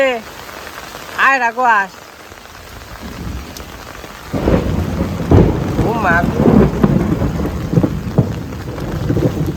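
Heavy rain with thunder over a village in the Bangladeshi rainy season: a dense downpour with loud rumbling bursts, briefly interrupted early on by a voice and a high sing-song call before the storm noise swells again.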